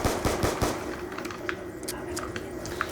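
Upgraded Type 25 rifle fire in Black Ops 2 Zombies: rapid gunshot bursts open the sequence, then give way to scattered shots and game noise.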